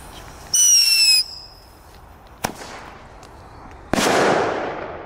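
Thunderking firecrackers go off outdoors: a shrill whistling rise, then a sharp crack, followed by a second loud bang with a hissing, decaying tail.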